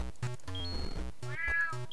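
A cartoon cat meows in the video game Clumsy Paws, a clear drawn-out meow over bright, bouncy game music with other short chirps, close and loud.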